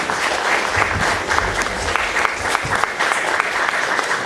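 Sustained audience applause at a concert inaugurating a University of the Third Age, steady dense clapping from a crowd in a hall, loud and even with no pauses.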